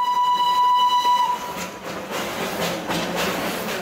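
A steam locomotive whistle on the two-car Darjeeling tourist train gives a clear high toot for over a second, then gives way to chuffing and rumbling rail noise nearby.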